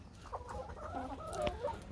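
Layer hens in a small deep-litter home coop cluck in soft, irregular bursts, several birds close by and overlapping at moderate volume with no talking.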